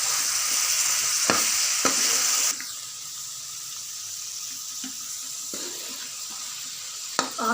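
Chopped pumpkin sizzles and crackles steadily as it fries in a pan for a curry with split chickpea lentils, with a few scraping stirs from a spoon early on and a softer, continuous sizzle after the first moments.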